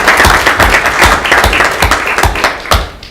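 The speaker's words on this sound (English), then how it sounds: "I think you deserve a round of applause for coming to us for that" An audience applauds at a city council meeting in Owen Sound, a dense patter of many hands that holds steady for a few seconds and then begins to thin out.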